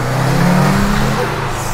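Nissan Skyline R34 GT-R engine revving at a night street meet, a loud steady rumble with rising tones, close by with faint chatter around.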